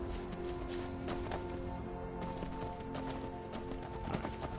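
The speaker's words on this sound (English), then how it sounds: "got some nice horses though" Horse hooves clip-clop at a steady, brisk rhythm in the Skyrim video game, a moderately loud repeating patter over a constant background drone.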